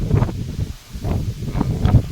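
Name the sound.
strong wind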